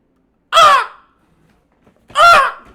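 Two loud, harsh raven caws, close by and separated by a pause of over a second, with near silence between them.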